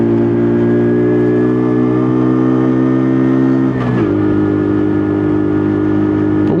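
A WK Colt motorbike engine roars at full throttle while climbing a hill, a loud, steady droning tone that drops in pitch briefly near the end as the rider shifts gear, then pulls on strongly.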